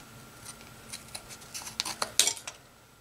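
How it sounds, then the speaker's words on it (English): Scissors snip through fabric repeatedly at close range, a series of quiet crisp cuts that grow slightly louder and quicker toward the end. "I use my junk scissors to cut this out"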